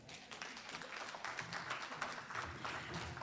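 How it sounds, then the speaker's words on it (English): Applause from a conference audience after a team presentation, steady scattered clapping at a moderate distance that stays fairly quiet and continuous throughout. "Please give them a better clap than that."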